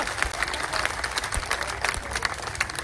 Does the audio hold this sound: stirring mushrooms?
no